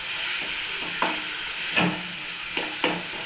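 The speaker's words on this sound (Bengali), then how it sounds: "চিকেনটা দিয়ে দিলাম, ভালো করে কষিয়ে নেব" Chicken pieces frying in a pan for curry, a steady sizzle with a few sharp scraping stirs, close and moderately loud, no voices.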